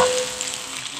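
Sardine fish frying in hot oil, a steady close sizzle with a soft hiss that tapers slightly after the first moment, with no voices.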